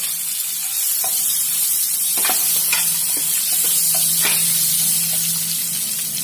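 Small chopped chili pieces fry in a hot pan on low heat, making a steady close hiss with a few light stirring scrapes and taps spread through it.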